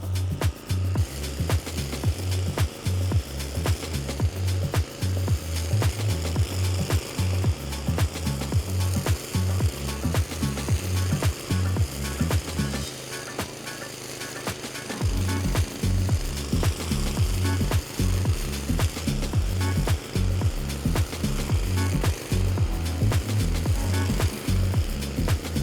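A DR Power trimmer mower cuts brush with 175 mm line, its engine chugging loudly and steadily in a fast pulsing rhythm, easing briefly for a couple of seconds midway before returning to full power.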